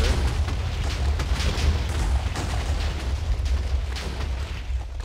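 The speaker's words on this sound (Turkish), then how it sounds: "Patlamalar başladı." Rumbling explosions from a Minecraft-style mining game, a dense run of deep booms and bursts at a mine entrance, loud and continuous without a break.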